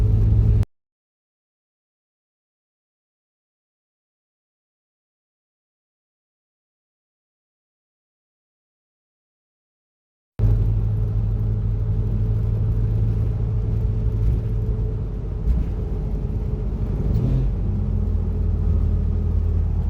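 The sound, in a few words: vehicle engine cruising at about 60, 2,000 RPM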